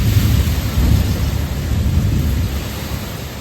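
Heavy rain pours in a steady roar with a deep rumble of thunder underneath, loud and continuous throughout, during a sudden storm in the Philippines.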